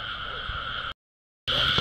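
Frogs croak in rice fields at the start of the rainy season, a dense, steady chorus of ringing calls that cuts out into complete silence for about half a second and then resumes just as loud.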